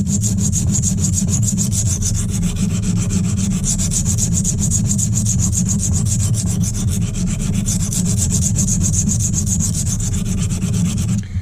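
Continuous rhythmic scraping of a knife blade rubbed hard under heavy pressure back and forth across a coarse silicon carbide sharpening stone, loud and close, with no voices.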